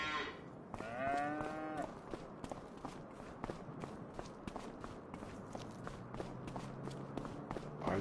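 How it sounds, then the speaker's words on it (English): Cattle mooing inside a cow barn in the Farming Simulator 25 video game, several drawn-out low calls near the start over steady shuffling hoofsteps and ambient barn noise, with a faint continuous drone throughout. "We have cows in our new cow barn."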